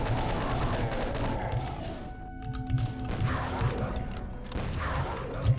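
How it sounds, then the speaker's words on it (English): Chaingun fire in Doom 2 aimed at imps, heard as quick repeated thumping shots mixed with crashes and monster noises, fairly faint, with a brief lull midway before more shots. "I'm gonna chain gun the rest of these imps"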